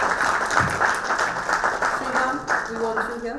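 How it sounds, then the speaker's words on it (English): An audience at a panel discussion of a book applauds the author with a steady wash of clapping throughout, while voices talk over it toward the end. "Kudos to you, and a big round of applause"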